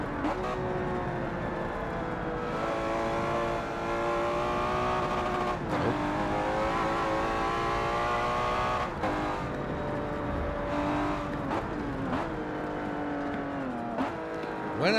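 A British car's engine in Forza 7 drones steadily and loudly with rising and falling revs and brief dips at gear changes throughout, with no talk over it.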